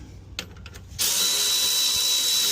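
A power tool whirs to life after a few faint clicks, running steadily and loud while tightening bolts on a 1993 Freightliner FLD 120 truck.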